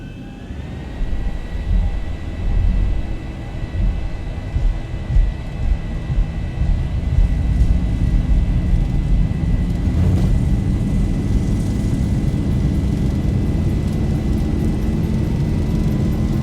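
Airliner jet engines in X-Plane 11 spool up to full throttle for the takeoff roll, a loud, steady roar with a rising whine and a deep rumble that builds and holds.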